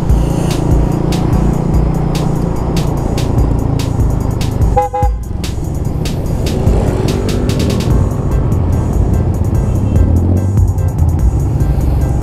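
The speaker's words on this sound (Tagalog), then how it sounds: "na traffic pa ako sa kalsada na to" Busy road traffic surrounds a stalled car in a jam: a dense, steady rumble of engines with repeated short horn toots and honks throughout, close and loud.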